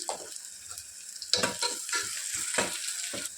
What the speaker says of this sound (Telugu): ఇప్పుడు ఇందులోనే హాఫ్ టీ స్పూన్ పసుపు కూడా వేసేసుకొని ఆనియన్స్ బాగా బ్రౌన్ కలర్లో వచ్చేంత వరకు ఫ్రై చేసుకోవాలి